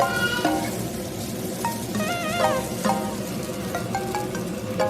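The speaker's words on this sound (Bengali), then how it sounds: "তো ধুয়ে রাখা তো সেগুলো দিয়ে ভালো করে মিক্স করে নিচ্ছি একদম লো হিটেই রাখতে হবে" Washed flattened rice (chira) being stirred in a pan over low heat gives a steady, close sizzle with soft scraping, continuous throughout, with faint tonal squeaks over it.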